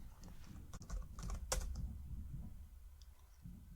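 A password being typed on a computer keyboard: a short, quiet run of close key clicks and taps over a faint background hum, with no voices.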